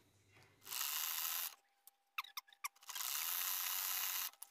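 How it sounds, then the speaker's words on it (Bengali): A sewing machine stitching the cloth of a pant or salwar: two long bursts of steady, close mechanical whirring, with a few sharp clicks and short runs between them. "এখন আমি কিন্তু একই সিস্টেমে কিন্তু আমি গোড়া দিয়ে সেলাই দিব।"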